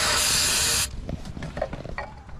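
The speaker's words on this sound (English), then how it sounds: "Spray some more up in here" Cleaner sprayed onto a car's throttle body gives a loud, steady aerosol hiss for just under a second, then cuts off, leaving faint handling noises.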